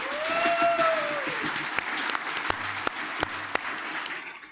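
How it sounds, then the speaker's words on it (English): Audience applause at a Lethbridge leadership debate, a steady wash of clapping from a hall crowd that slowly fades, with a short tonal sweep early on and a few sharp knocks near the end. "If I could get a round of applause for question 1."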